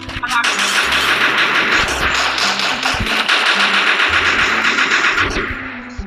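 Rapid automatic gunfire in the shooter game Free Fire, dense, loud bursts rattling almost continuously near the listener with faint voices underneath.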